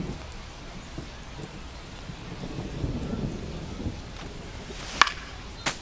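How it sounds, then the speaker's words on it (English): Thunderstorm with rain during a Philadelphia versus New York Yankees baseball game: a steady wash of rainfall, a low thunder roll building midway, and sharp cracks near the end, with no voices. "It feels like we might be headed towards a rain delay if the weather doesn't ease up, Chris."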